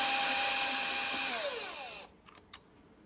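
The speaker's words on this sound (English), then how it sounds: "Mine has a little magnetic on the screw gun, so sometimes I get lucky and the screw just falls" A handheld screw gun backing out screws from a hoverboard battery compartment, its close, steady motor whine sliding down in pitch as it spins to a stop, then a couple of small metallic clicks.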